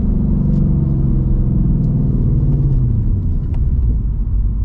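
A 2024 Ford Mustang GT V8 with an H-pipe and active mufflers roars in a loud, steady, deep exhaust rumble with a slight rising drone, heard from inside the car with no talking.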